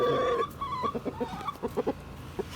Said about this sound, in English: Ruth is the rooster. He doesn't like it.